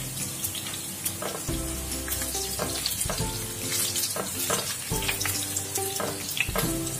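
Chopped garlic sizzles steadily in hot oil in a pan until golden brown, a continuous crackling fry with tonal music running underneath throughout.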